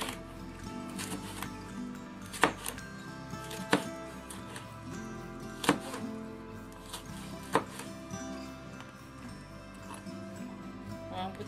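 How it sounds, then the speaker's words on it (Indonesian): A knife roughly slicing shallots on a board while preparing sambal Lamongan, a few sharp, irregular cuts scattered over a busy kitchen background with low voices in the room. "kita iris kasar aja bawang merah"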